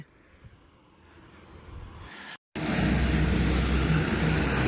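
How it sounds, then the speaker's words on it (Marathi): A loaded goods truck approaches on a road, its rumble building gradually from faint to loud. After a brief silent gap it becomes a close, loud broadband roar. "लोडची गाडी आलेली आहे समोरच्या साईडून"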